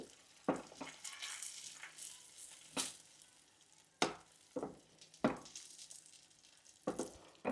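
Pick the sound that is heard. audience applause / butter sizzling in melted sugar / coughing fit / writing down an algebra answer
butter sizzling in melted sugar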